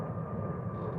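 Airliner at DFW International Airport, a steady broadband engine roar with a faint whine, moderately distant and continuous for about a second.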